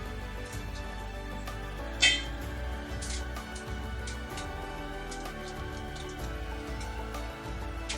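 Loose chocolate pieces rattle inside a hollow homemade chocolate Easter egg shaped over a balloon, giving faint, scattered clicks and ticks with one sharper knock near the start.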